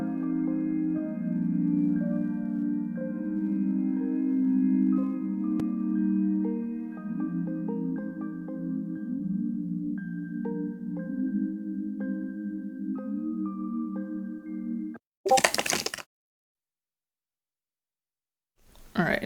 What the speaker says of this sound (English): the synth pad section sounds like this